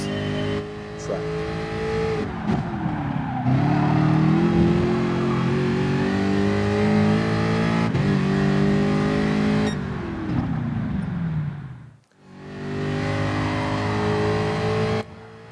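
A race car in Gran Turismo Sport roars with rising engine pitch as it accelerates. Around the twelfth second it briefly drops away under braking and downshifting, then climbs hard again.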